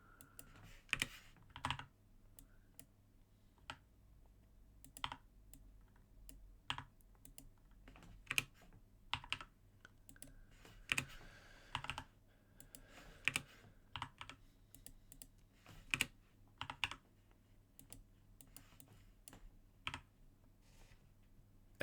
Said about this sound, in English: How does the keyboard and stuff sound?